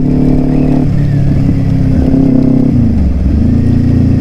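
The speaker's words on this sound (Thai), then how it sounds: "เครื่องมันยังไม่ร้อนเลยอะ่ะ มันแน่นแปลกๆนะครับ คือไม่ใช่เสียงเครื่องปกติ" A Kawasaki Ninja 400 motorcycle engine, not yet warmed up and sounding unusually tight, runs loudly and steadily up close, its pitch dipping and rising slightly as the throttle shifts.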